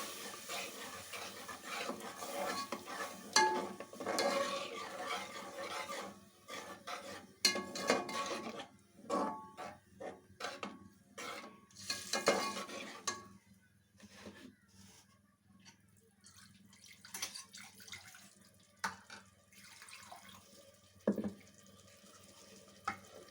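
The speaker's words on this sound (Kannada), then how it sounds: "ನಾನೇನು ಹುಣಸೆಹಣ್ಣು ರಸ ಮಾಡ್ಕೊಂಡಿದ್ದೆ, ಜ್ಯೂಸ್ ತೆಗೆದಿಟ್ಕೊಂಡಿದ್ದೆ, ಅದನ್ನು ನಾನು ಇದಕ್ಕೆ ಹಾಕ್ತಾಯಿದ್ದೀನಿ" Tamarind juice poured into a pot of tiffin sambar and stirred, with liquid splashing, metal utensil clinks and scraping against the pot, loud at first and then thinning into intermittent close clatters.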